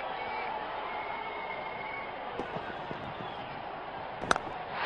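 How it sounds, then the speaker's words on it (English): Crowd at a cricket stadium roars in a steady, dense wash of cheering and chatter, with a few sharp claps and whistles rising near the end. "Crowd is going crazy."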